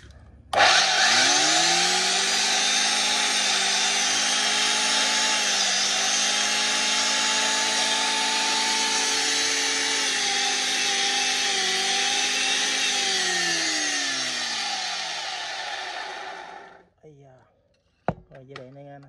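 Used electric power saw using a 135 blade being test-run: a loud, close, steady motor whine that holds for about fifteen seconds, sags slightly, then winds down, followed by a few handling clicks.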